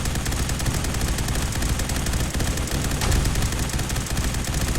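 Sustained automatic fire from a modular infantry energy rifle mod in Fallout 4, a dense, loud, continuous stream of rapid shots with no pauses, filling the whole stretch without any talking.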